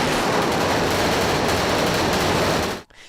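Gunfire from the film Kill Bill: Volume 2 rattles in a loud, dense continuous burst for nearly three seconds, then cuts off abruptly.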